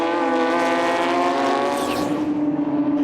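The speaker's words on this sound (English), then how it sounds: "So the Kotaya Porsche continues to charge forward." Porsche race car charges around Sydney Motorsport Park, a loud, high engine howl holding steady pitch before easing off as the car draws away.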